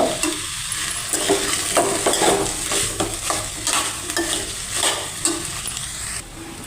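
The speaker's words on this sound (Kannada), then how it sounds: "ಆವಾಗಲೇ ಏನು ರುಬ್ಬಿಟ್ಟಿದ್ವಲ್ಲ ಅದನ್ನು ಹಾಕಿ ಮಿಕ್ಸ್ ಮಾಡಿ" Ground masala being stirred into a kohlrabi curry in a pan, a steady scraping stir over a soft, continuous sizzle with repeated spoon strokes and no talking.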